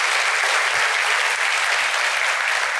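A studio audience on an Indonesian television talk show bursts into dense, sustained applause, loud and even throughout, ending abruptly, with no one talking over it.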